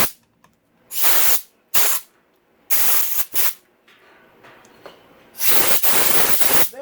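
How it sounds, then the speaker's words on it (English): Compressed air blasts through the engine passages of a Honda CRF250R during a full motor rebuild: several loud, close hissing bursts of varying length, separated by short quiet gaps and ending with a longer blast. "I'm gonna blow out all these passages"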